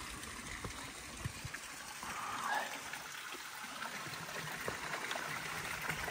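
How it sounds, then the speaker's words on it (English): Water runs steadily into a water tank on an off-grid farm in the Algarve, a continuous broadband trickle and gush heard up close for the whole stretch, with no voices over it. "Water running into it constantly."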